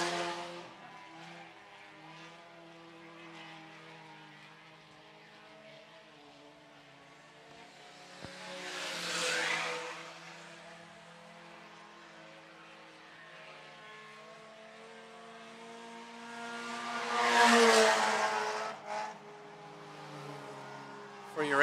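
IMCA Sport Compact race cars circle the dirt oval at Phillips County Raceway, engines droning at a distance and swelling twice as cars pass closer, with no speech heard.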